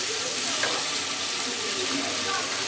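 Potatoes and pointed gourd going into cooked-down masala for a Bengali tangra fish curry, a loud dense hiss of frying that holds evenly throughout, close and with no voices.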